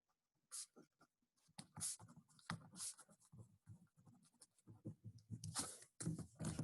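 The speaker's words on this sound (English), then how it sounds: "I will write this down now so I don't forget." Notes are handwritten with a pen on paper, giving close, irregular scratchy strokes in short bursts with brief pauses between them.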